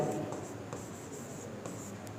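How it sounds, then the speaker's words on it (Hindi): A pen writing Bihar place names onto a paper map makes soft, close scratching strokes with small pauses between words, low and steady throughout. "जैसे कि यहाँ पर लिख देते हैं कैमूर"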